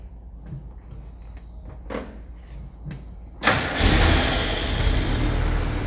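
A vintage Packard car: a few quiet clunks and taps, then the engine catches with a sudden burst and settles into a loud, steady, close running roar.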